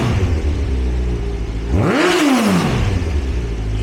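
Modified motorcycle idling with a steady low rumble, then given a single sharp throttle blip that rises and falls in pitch before settling back to idle, loud and close with no talking.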